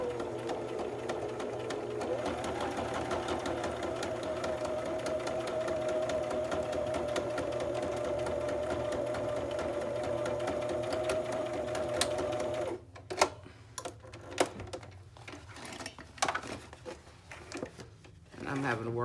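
Home sewing machine running a steady zigzag stitch on fabric, a continuous close whirring hum for about twelve seconds before stopping, followed by scattered clicks and handling noises.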